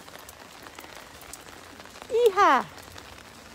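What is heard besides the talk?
rain falling on a Paris street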